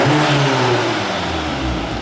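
A car with a modified exhaust revs hard, the engine rising and settling in a loud, close whirring roar over two seconds.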